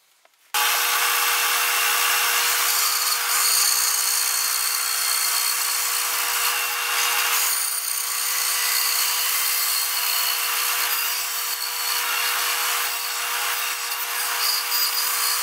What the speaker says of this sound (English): I'll take it over to the bandsaw and cut the slot